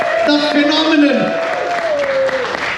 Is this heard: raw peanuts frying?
no